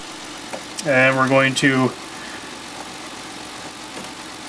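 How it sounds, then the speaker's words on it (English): A Chevy 3.4L V6 idles with a steady, even hum while someone talks briefly over it. "we're going to fire the engine up and let it run for a couple minutes"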